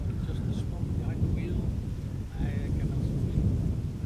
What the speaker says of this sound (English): E2 Embraer 195 in the background arriving from Stavanger.